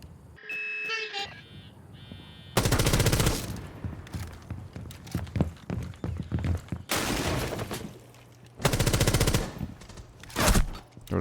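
Vector submachine gun fire in the tactical shooter Rainbow Six Siege: loud, rapid automatic bursts, with a long burst early and two more later, separated by scattered single shots and quieter in-game sounds.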